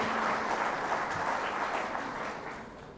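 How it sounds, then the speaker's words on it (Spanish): An audience at a family law lecture applauds for the speaker, a dense, continuous clapping that gradually fades over a few seconds. "Por favor, un fuerte aplauso a nuestro conferencista."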